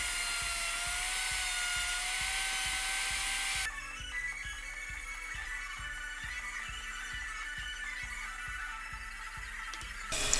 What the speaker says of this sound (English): to cut the slots, I used a biscuit cutting bit in my router